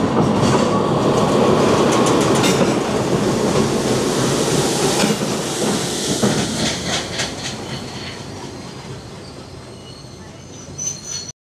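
A loud passenger train on the Colombo to Galle seaside line in Sri Lanka rumbles and clatters steadily over the rails, with hissing noise, its roar gradually easing toward the end.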